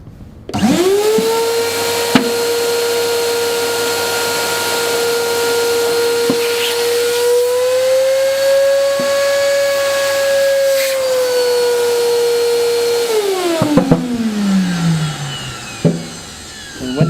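A Chinese-made suction machine starts with a rising whine and runs as a loud, steady tonal drone while a round container slowly deforms under vacuum, then winds down with descending pitch and creaks as it is switched off.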